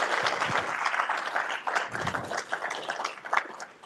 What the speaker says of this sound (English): please special shout out and